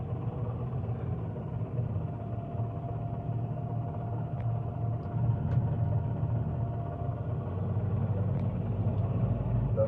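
A 2013 Fendt 939 Vario Profi tractor, roughly 400 horsepower, runs with a steady low diesel rumble that holds at an even, moderate level throughout, with no talk over it.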